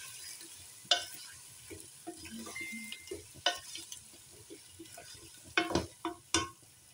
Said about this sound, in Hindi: आलू को थोड़ा सा फ्राई करेंगे प्याज के साथ।